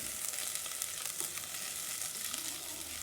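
Onions sweat gently in a pan, giving a soft, even, fairly quiet sizzle that holds steady for a few seconds with faint crackles and no talking.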